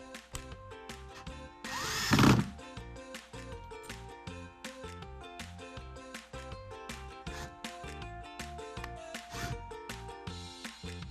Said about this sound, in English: I have over here what you call an electric screwdriver.